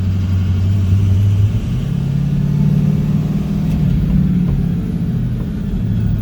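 A 2006 Ford F650 truck with a VT365 engine and a no-power-under-load fault roars at full throttle, with a loud, steady low rumble and drone that holds without letup throughout.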